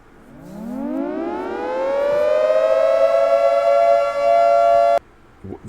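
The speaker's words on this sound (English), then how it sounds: "It sounds much more, like the actual Siren" A synthesized civil defense siren winds up from a low growl into a steady, loud rising wail, holding its tone for several seconds before cutting off abruptly, with a brief faint tail afterward.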